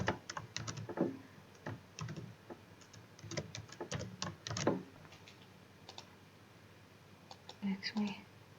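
Fingers type on a computer keyboard in Notepad, quiet irregular clicks in short bursts with pauses, close by and soft, with faint whispered speech now and then.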